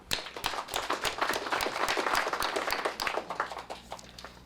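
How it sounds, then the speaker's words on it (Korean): An audience clapping in thanks at a Korean city hall district report meeting, a crowd of hands producing rapid, uneven claps that swell to a sustained peak and taper slightly, fairly near and without talk. "감사의 박수를 부탁드립니다"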